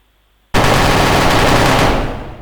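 Weapon gunfire in a Buildbox game preview, a sudden loud, sustained burst of rapid automatic fire that breaks out of silence and starts to fade at the end.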